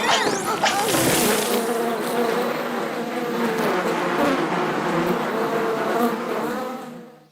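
A swarm of bees in a Hindi animated cartoon buzzes loudly and continuously, a dense droning hum with layered whining tones that holds steady for several seconds before fading out.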